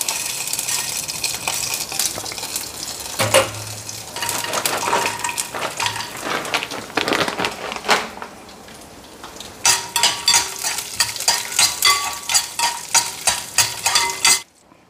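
Mustard seeds and urad dal sizzling in oil, a loud continuous crackle broken by repeated clinks and scrapes of a metal spoon against the pan, with denser popping near the end.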